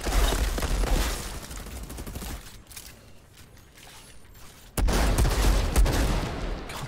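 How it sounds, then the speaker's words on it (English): An automatic shotgun fires in the video game Outriders, a dense burst of rapid blasts that eases into a brief lull, then erupts again loud and close with another rapid volley. "Let's try out an auto shotgun."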